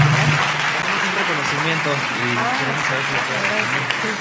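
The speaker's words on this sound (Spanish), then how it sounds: "Le podemos brindar un fuerte aplauso," Sustained applause from a crowd, a steady wash of clapping while a voice speaks over it.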